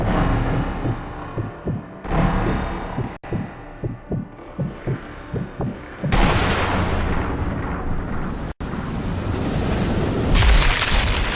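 Sniper rifle shots in Sniper Elite V2, heavy thumping booms repeating at a steady pace amid game ambience and music, then louder noisy bursts later, with no talk over them.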